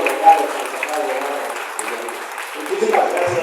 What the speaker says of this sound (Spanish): seguramente porque la interferencia de los aplausos